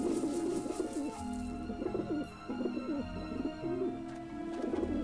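Pigeons coo repeatedly in the video game Grim Fandango, a steady close-up run of soft warbling calls with no one talking over them.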